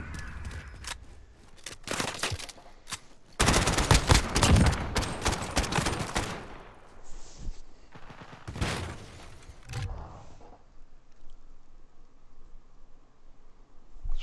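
Rapid bursts of gunfire from a 5v5 tactical shooter video game match, with sharp shots and heavy sustained volleys in the middle, followed by sporadic shots and quieter ambient game noise toward the end.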